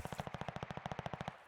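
Rapid automatic gunfire from a competitive Call of Duty-style Search and Destroy esports match, a steady burst of about twenty evenly spaced shots over a second and a half, heard at a distance, with no voices.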